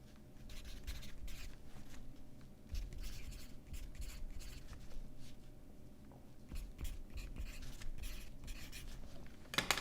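A pencil writes on paper close by, with continuous soft scratching strokes in irregular bursts over about ten seconds in a quiet room.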